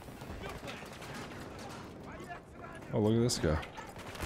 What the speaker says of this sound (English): Stop shooting at me, please!